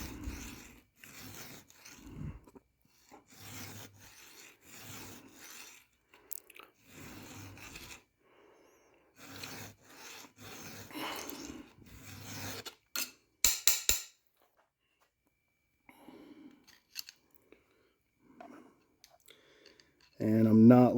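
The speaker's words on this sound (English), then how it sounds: "I'm filing from left to right, pushing this direction" A round file sharpens a chainsaw chain tooth, rasping in a series of forward strokes pushed left to right with no pressure on the backstroke, close and fairly quiet, followed by a few sharp clicks and scattered softer scrapes.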